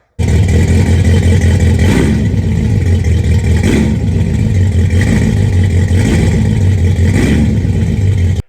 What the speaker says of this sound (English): I'll play you some of the real good throttling exhaust right now.